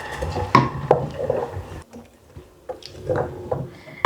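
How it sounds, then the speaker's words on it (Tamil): Blended tomato poured into a hot pan for a poori side sauce, with wet sizzling splashes, clinks of a spoon against the pan and soft squishy stirring in uneven bursts. "இதை நான் இப்போ அடித்து வச்ச இந்த தக்காளி பழத்தை போட்டு இதுக்கு சவுஸாக காய்ச்ச போகிறேன்."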